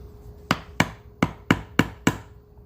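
Six sharp, evenly spaced strikes of a chisel into a wooden root ball bowl, each a crisp close knock with a short ringing decay, with no voices.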